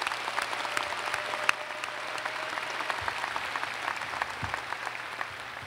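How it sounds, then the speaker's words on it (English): A large graduation ceremony crowd at the University of Louisville applauds the graduates with sustained, even clapping that fills the hall for several seconds, with occasional sharper claps standing out. "Please join me in giving these graduates a round of applause"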